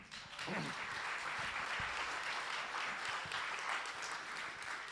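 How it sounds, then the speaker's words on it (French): Conference audience applauding after a round table panel, a dense sustained wash of clapping from a full room that holds steady throughout with a few louder individual claps. "Je pense qu'on peut les applaudir."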